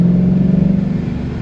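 Supercharged 2011 Ford Mustang GT 5.0 with a factory clutch accelerating on the road, a loud, low engine drone with a pulsing throb that holds steady over a brief moment.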